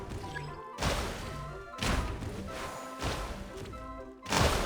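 Gunshots at a target in Genshin Impact, four heavy thudding blasts spaced about a second apart, each with a broad crash and short decay, loud and close with no talking.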